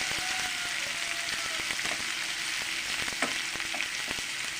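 Onions fry in a pan with a bright, continuous crackling sizzle, while a spoon scrapes and taps now and then close by. No one speaks.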